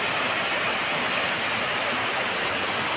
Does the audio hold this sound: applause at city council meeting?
no